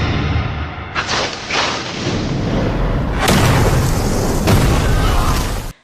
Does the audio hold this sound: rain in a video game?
no